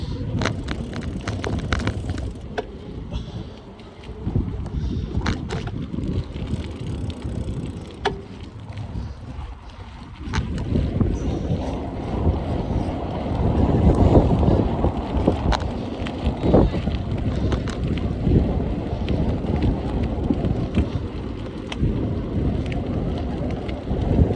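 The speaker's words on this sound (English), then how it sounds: "I think the wind's blowing." Wind rushes and buffets against the microphone on an outdoor bicycle ride, a steady low roar that swells louder midway and continues throughout.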